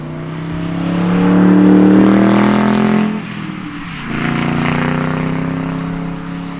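A loud Morgan sports car engine roars nearby, rising as the car approaches and passes, then a lower rumbling drone carries on as it moves away.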